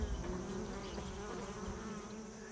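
Steady, dense buzzing of many bees droning continuously around a tree hollow, close by and fairly quiet, with no voices.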